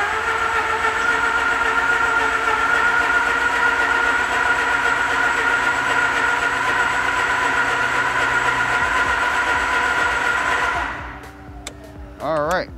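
Mazda RX-8 barn-find rotary engine cranking over on the starter, a loud, steady whirring drone that holds for about eleven seconds and then stops, followed by a faint voice.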